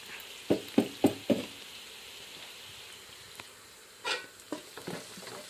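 Churumuri puffed rice mixed with salt in a bowl: four quick knocks in a row, a pause, then dry crackly rustling and scraping strokes, close and moderately quiet, with no talking.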